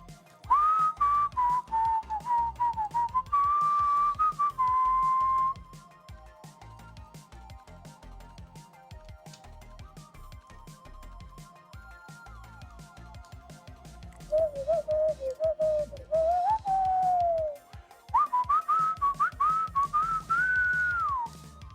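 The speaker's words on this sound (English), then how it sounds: "Oh, I can't even whistle." Someone whistles a wavering, uneven melody in long, close, fairly loud phrases, breaking off in the middle and then resuming, with a soft rhythmic background beneath.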